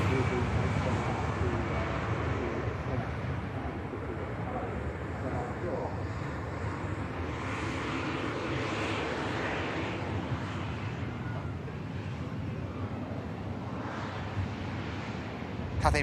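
An Airbus A220 and other airliners taxi at Manchester Airport, producing a steady, distant jet roar mixed with gusty wind noise that rises and falls slightly without a break.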